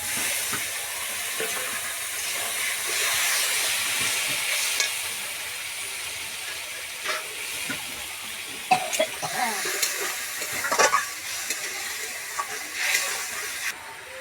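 Spice paste sizzles and hisses in a pan as water goes in, with steady frying noise, scattered stirring clatter and a brief burst of bubbling and spatter midway, fairly close, no talking.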